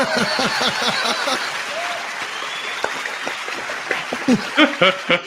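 A burst of applause sound effect plays over a casual chat, rising to a broad wash of clapping while voices talk and chuckle, with short laughs near the end.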